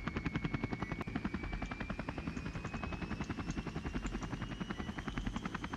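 A Blackhawk helicopter in a video game, with a loud, steady rotor thump pulsing rapidly over a continuous turbine whine throughout, close and unbroken.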